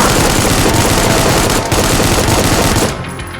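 Rapid automatic assault rifle fire in the Doom-like shooter Supplice, loud and continuous for about three seconds before cutting off into a quieter tail.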